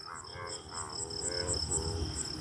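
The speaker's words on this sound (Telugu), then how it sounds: "లైట్ వేసే చాలా కప్పలు అరుస్తున్నాయి" Many frogs croak at night near paddy seedlings, their repeated pulsing calls layered over a steady high insect drone, moderately loud and without talk.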